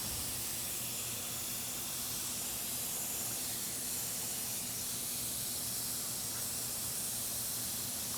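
A Miller Weldmaster hot air welding machine runs with a steady, loud broadband hiss of blowing hot air that continues unbroken without pauses.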